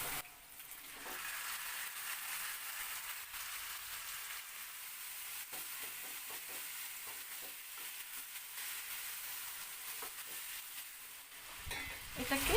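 Marinated mutton frying in a pan with onions, a steady broadband sizzle with stirring noises throughout, fairly loud and continuous, with no talking.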